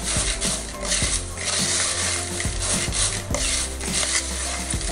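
Chiwda snack mix being stirred in a pan: a continuous dry rustle with repeated scraping clicks of the spoon against the pan, steady and close throughout.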